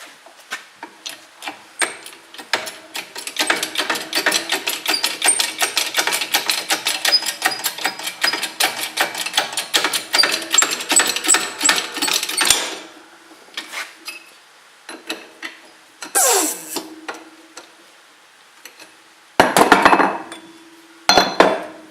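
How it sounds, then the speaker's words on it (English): A hand-cranked press forcing an old rubber bushing out of a Mopar upper control arm: a long run of rapid metallic clicks and ratcheting, then scattered louder clanks and knocks of metal against metal, close and with no talk. "So all it is crank that down now and watch that bush come out."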